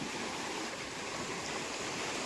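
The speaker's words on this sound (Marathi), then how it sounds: "पाण्याचा वेग पण खूप आहे बघा" Fast-flowing water where a fishing net is cast at night rushes steadily and broadly, a constant dense roar with no pauses or voices.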